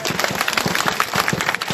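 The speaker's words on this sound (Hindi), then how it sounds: "जोरदार तालियां" Loud applause from a crowd at a political rally in Dhule, a dense, continuous wash of many hands clapping throughout, with faint voices mixed in.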